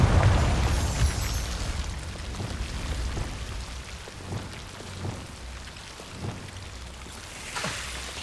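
Confringo spell blast in Hogwarts Legacy, fired at Devil's snare: a loud burst opens, then a crackling, rumbling tail lingers and pulses for several seconds before trailing off.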